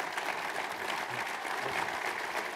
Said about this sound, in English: So, first of all, I'd like a round of applause for Mr. McLaughlin here.